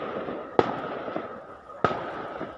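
Two sharp gunshot bangs ring out about a second apart in Talisay, Batangas, carrying over a low, murmuring outdoor background with faint voices.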